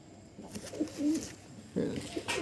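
High-flying tumbler pigeons at a loft give soft, low cooing phrases, two or three rolling bursts close by with short pauses between them.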